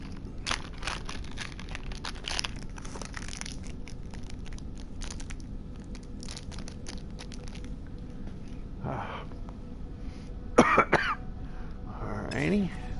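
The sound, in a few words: person coughing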